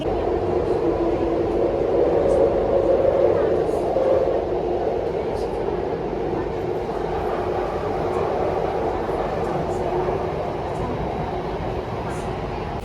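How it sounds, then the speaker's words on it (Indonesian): A Singapore MRT train pulls into the station with a steady, loud rumble and rushing hiss that holds throughout, with faint clicks and indistinct background noise on the platform. "Udah sampai di MRT."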